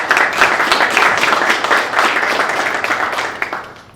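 A press-conference audience applauds to welcome four-time PGA Tour winner and golf analyst Notah Begay III with guests, a steady dense wash of many hands clapping at close range that holds throughout and tails off slightly at the end.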